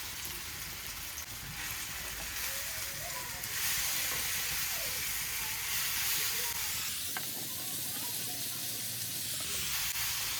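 Banana pieces stir and roast in ghee in a pan, giving a steady close sizzle and hiss that brightens midway, with faint scraping as the fruit is turned.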